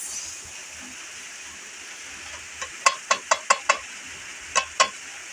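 Two eggs being stirred in a pan, heard as a soft background hiss followed by a quick run of five sharp scraping clicks, then two more after a short pause, with no talking.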